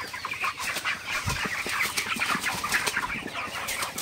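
Broiler chickens clucking steadily inside a poultry shed, a dense flock chorus of overlapping clucks and chirps with a few wing flaps, close and continuous with no talking.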